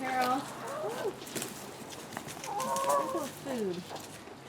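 Backyard chickens cluck and chatter while pecking at cut-up grapes, several short clucking calls rising near the microphone under a person's talk.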